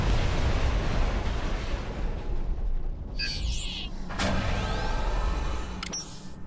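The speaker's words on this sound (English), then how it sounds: "we can't because the ship's blowing up" A starship blows up in Star Wars: The Old Republic as a deep, rolling rumble of explosion noise, with a few sharp crackling bursts and zipping effects layered on top, and no talking.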